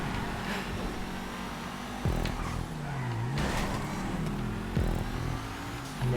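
Race cars in GTA 5 overtake slower back markers on a custom track, their engines droning and shifting pitch at moderate distance, with a few sharper passing bursts and revs.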